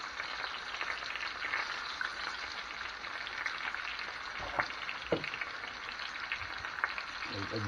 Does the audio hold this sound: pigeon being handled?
no